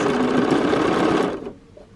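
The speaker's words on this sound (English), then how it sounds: "then I just start sewing again" A sewing machine stitches a pencil quilt binding with a fast, close, loud mechanical whir that stops abruptly after about a second and a half.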